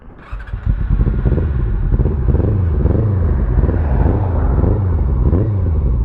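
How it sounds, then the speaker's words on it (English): A motorcycle engine misfires, running on only two cylinders during a ride. It gives a loud, close, lumpy rumble with an uneven, pulsing throb that builds quickly after the first half-second and holds steady. "that's not firing on all cylinders"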